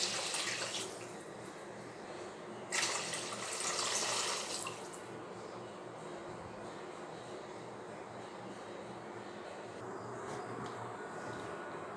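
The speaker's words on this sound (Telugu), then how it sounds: "సో 2 గ్లాసెస్ వాటర్ యాడ్ చేయండి." Water poured into a cooking pot for tamarind rasam, a steady rushing splash with louder bursts early on, heard alone without talk.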